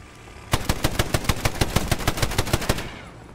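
A Browning automatic rifle fires a single sustained burst of roughly fifteen rapid, evenly spaced shots, loud and sharp, then stops abruptly, leaving a short fading tail.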